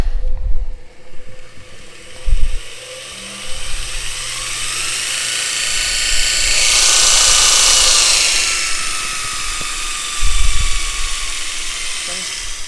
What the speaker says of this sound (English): So now you're ready to fire up the motor.